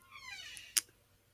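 A pet cat lets out a single soft, close meow that sweeps downward, followed by a brief sharp click, then quiet room noise.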